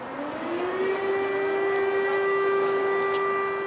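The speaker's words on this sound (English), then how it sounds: "The air raid sirens are irregular now." A wailing air raid siren in Ukraine holds a steady, sustained tone, loud and continuous, with faint background noise around it.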